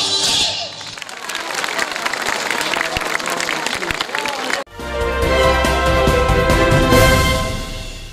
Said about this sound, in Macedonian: многобројната публика не штедеше на громогласни аплаузи